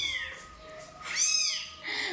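Two house cats meow in a home, a few drawn-out, wavering calls close by, the louder one in the middle of the stretch, with no talk over them.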